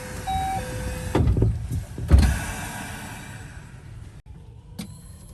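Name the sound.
train sliding doors closing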